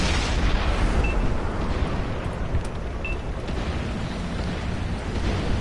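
Dense, continuous rumble of artillery explosions and booms in a video game, loud and broadband throughout with no clear gaps, overlapping blasts blending into one roaring wash.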